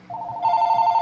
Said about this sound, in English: Excuse me about my phone in the background.